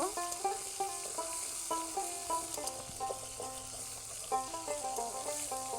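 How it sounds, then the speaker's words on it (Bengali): Kusia fish fry in a pan with a steady oily sizzle, broken by periodic scraping stirs, while melodic background music plays throughout. "কিছুক্ষণ সময় ধরে এইভাবে নেড়ে চেড়ে মাছগুলোকে ভালো করে ভেজে নিব"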